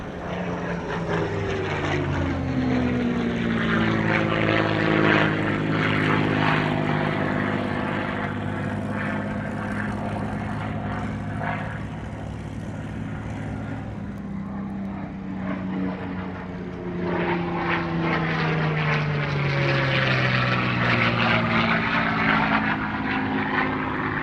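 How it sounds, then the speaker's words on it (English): A restored Spitfire MH603 propeller fighter makes a display pass at a Scone warbirds airshow, its engine droning loud and steady throughout, with pitch sweeping down as it passes, then rising again as it returns. "MH603 is Australia's newest Spitfire, and it was restored at Scone by Vintage Fighter Restorations."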